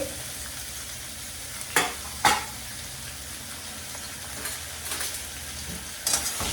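Tomatoes fry and sizzle in a pan over gas, a steady hiss broken by several sharp pops and spits, close and moderately loud, with no talking.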